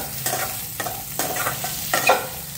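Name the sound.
stirring gooseberries with salt in a pan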